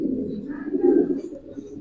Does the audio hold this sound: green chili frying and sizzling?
no